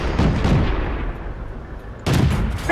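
Tank cannon fire in a tank video game: a loud, heavy blast at the start rolls off into a long fading rumble, then a second sharp cannon shot lands about two seconds later.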